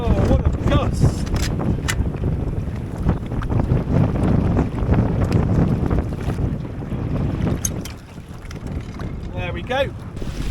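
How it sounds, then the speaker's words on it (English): Strong wind buffets the microphone aboard a small boat on open water, a loud continuous roar with gusts that swell and ease, and a voice exclaims over it briefly. "Whoa, what a gust!"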